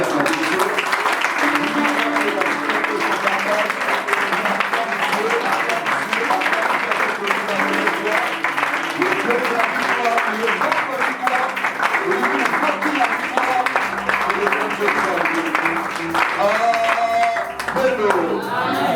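A church congregation applauds and acclaims God during a service, with steady loud clapping that runs throughout alongside crowd voices and music in the background.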